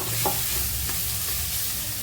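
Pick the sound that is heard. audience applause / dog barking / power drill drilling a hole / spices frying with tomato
spices frying with tomato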